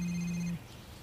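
A telephone rings once in a short, faint electronic tone that cuts off after about half a second, followed by quiet.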